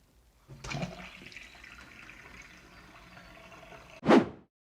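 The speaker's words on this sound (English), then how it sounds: "Water, go down the plug hole." Water runs and gurgles steadily down a plug hole for several seconds, then ends in a short, loud final gulp as it drains away, close and alone.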